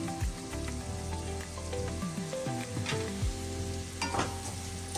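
Mushroom masala with turmeric stirred in a frying pan gives a steady close sizzle of frying, with scraping and stirring scrapes of a spoon against the pan throughout and no talk.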